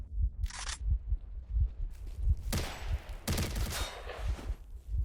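In S.T.A.L.K.E.R., an RPK or PKM machine gun fires short bursts, some near and sharp, others more distant, with low thumps and rattles between them.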